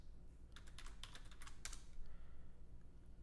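Rapid typing on a computer keyboard while writing NodeJS code in an editor, a quick burst of clicky keystrokes for about a second and a half, then only a faint low hum.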